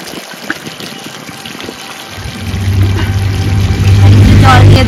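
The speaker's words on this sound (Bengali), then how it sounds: "জল দিয়ে দেব।" Water poured into a pan of fried prawns and potatoes for a prawn and pointed gourd curry, a rising gushing splash and bubbling that builds and stays loud after a quieter sizzle.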